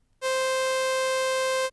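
A steady synthesized sawtooth wave tone sounds alone at one fixed pitch, bright and buzzy with a full series of harmonics, starting and stopping sharply after about a second and a half.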